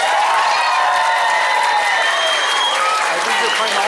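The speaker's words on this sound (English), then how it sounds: "We need an official applause on here, Miss Campbell." A school concert audience bursts into applause and cheering, with dense, continuous clapping and scattered shouts filling the hall at close, loud level throughout.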